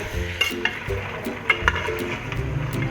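Mutton chunks and fat pieces frying in a pot for Peshawari namkeen gosht, with a steady sizzle broken by repeated scraping stirs of a spoon, close and moderately loud, no voices.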